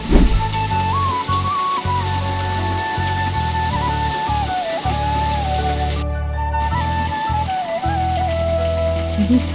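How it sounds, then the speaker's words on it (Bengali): Steady, heavy rain in Belgium hisses continuously during a thunderstorm, with a low rumble and a faint wavering tone running through it. "বৃষ্টি আর বৃষ্টি, বিদ্যুৎও চমকাচ্ছে, আকাশও ডাকছে"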